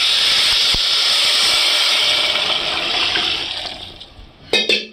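Water poured into a hot pan of fried lentils, a loud rushing hiss that holds for several seconds and then fades, ending in a couple of short sputtering bursts up close.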